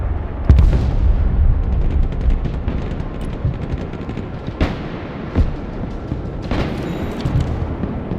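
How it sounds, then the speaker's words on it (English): Artillery fire in the Broken Arrow war game: a sustained rumble of distant booms with several sharper blasts standing out, one early and others later, over a dense battlefield din with no talk. "Brett, don't shoot my artillery."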